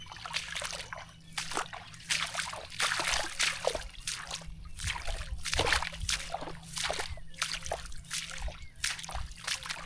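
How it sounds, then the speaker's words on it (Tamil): Footsteps slosh and splash through water and mud in a flooded paddy field, a rhythmic series of wet squelches and trickles, close and fairly quiet over a faint steady hum. "தண்ணியில் நடக்கிற சவுண்டு"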